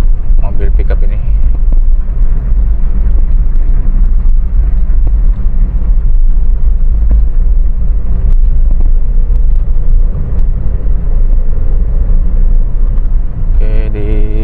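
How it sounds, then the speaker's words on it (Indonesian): A car on a hilly road overtakes a pickup truck, a loud, continuous low engine and road rumble heard from inside, with someone speaking over it. "Kita akan menyalip mobil pickup ini."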